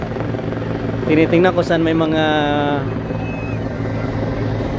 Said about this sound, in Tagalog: paikot-ikot yung mga helicopter